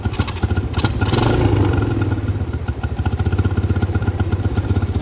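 A motorcycle engine with a freshly cleaned Nibbi carburetor, running close and loud with a quick rev that swells and then settles back into a fast, even throbbing idle.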